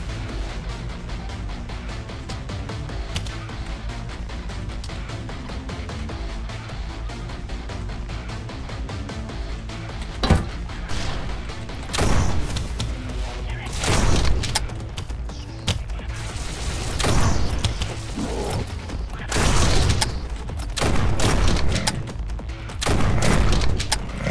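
Rifle fire in the sci-fi shooter Quake 4, heavy chunky shots landing in separate loud bursts and booms against a steady rumbling background, with no talking.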